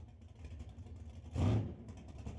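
A drag racing car's engine idles roughly at the staging beams of a 1/8th mile track, a steady low rumble that swells into a brief loud burst of revs mid-clip before settling back.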